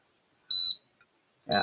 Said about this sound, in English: Excuse the beeping, that's my heat mat.